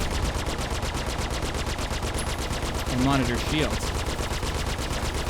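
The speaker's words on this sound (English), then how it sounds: "Let's see how well that cannon does when I reroute all power to weapons." Spaceship cannon fire in the Star Citizen space game, a rapid, steady stream of mechanical shots pulsing loudly throughout, with a brief voice heard over it.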